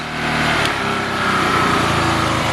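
A P2000 portable generator engine runs loud and close as it switches into power smart mode, its steady droning hum shifting pitch as the RPMs change.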